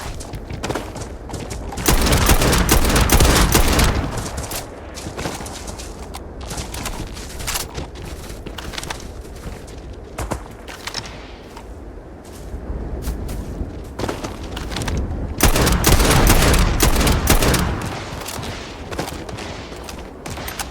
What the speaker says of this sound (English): amazing how a high-powered rifle like this that takes 50 caliber and has like 340 damage is still struggling to take these guys out